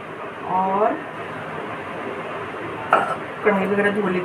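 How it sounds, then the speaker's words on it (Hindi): A wok and dishes being scrubbed and rinsed under running water, the wok having held soaking kidney beans, with someone talking briefly at the start and again near the end. "कढ़ाई वगैरह धो लेती हूँ, इसमें राजमा भिगोए थे।"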